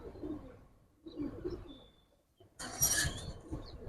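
Giribaz pigeons coo in a loft, several soft, low, close coos in short bursts separated by brief pauses, with a sharper brighter call near the end.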